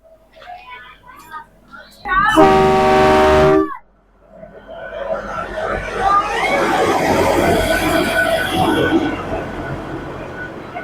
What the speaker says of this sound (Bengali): এই যে টয় ট্রেনটা, এটা আসছে সিমলা থেকে কালকা যাবে।